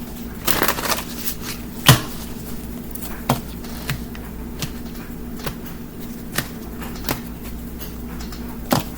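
A deck of tarot cards is shuffled close up, soft riffling and papery slaps with a few sharper taps scattered through the quiet.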